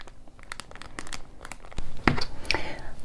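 Crinkling and tearing of a plastic wrapper at close range, sharp rustling bursts with short pauses between them.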